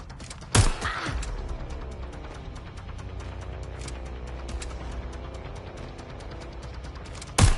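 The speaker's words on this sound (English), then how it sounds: "Gunfire!" Gunfire in the game Watch Dogs: Legion, with two sharp loud shots, one near the start and one at the end, over a low mechanical hum and faint rattling.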